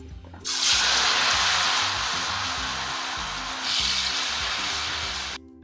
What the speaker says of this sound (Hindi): ऑयल जो है ये गर्म हो चुका है, तो अब हम इसके अंदर ये चिप्स डाल रहे हैं।